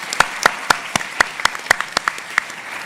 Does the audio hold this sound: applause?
yes